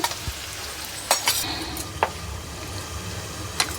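Chili powder fries slowly in a pan on a low simmer for an egg and garlic chili dish, a soft steady sizzle broken by a few sharp spoon scrapes and clinks against the pan.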